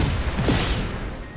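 A broad, rumbling blast in the video game Just Cause 3, a single loud boom with crackling debris that fades over about a second.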